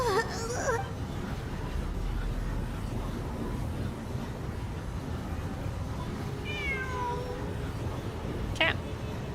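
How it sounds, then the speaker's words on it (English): A cat meows in a video game, with a few short cries over a constant low game background hum, fairly faint and mid-distance. "Cat."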